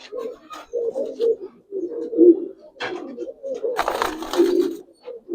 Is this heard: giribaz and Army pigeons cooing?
yes